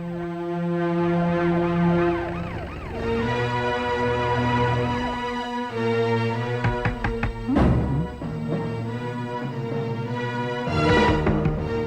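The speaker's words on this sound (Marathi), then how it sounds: "सायरन?" A loud wailing siren sweeps up and down continuously, joined by a second steady tone and some clattering noise, with no talking.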